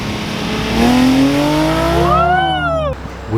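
A Nissan 370Z engine revs up hard outdoors, its pitch climbing through the clip, then drops off abruptly near the end, with faint traffic noise underneath.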